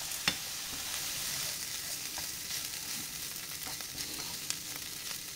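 A persillade of parsley sizzles gently in a pan, a steady close frying hiss with occasional soft stirring clicks and scrapes throughout.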